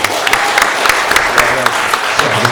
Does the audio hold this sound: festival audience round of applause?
yes